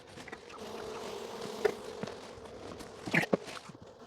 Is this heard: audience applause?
no